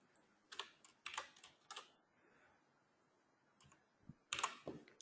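Computer keyboard keys are pressed in a few quick clusters of sharp, close clicks with quiet gaps between, as a keyboard shortcut is typed.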